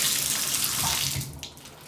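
Water runs in a hotel bathroom shower, a steady close hiss that fades slightly toward the end, with no voices.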